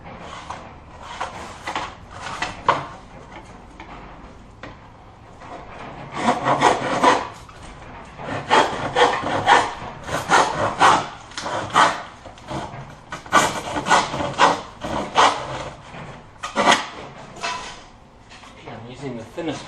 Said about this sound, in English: Using the thinnest plywood you can get, which makes it quite easy to cut